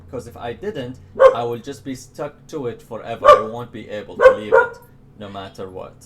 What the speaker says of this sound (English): So I'm sorry about my dogs in the background.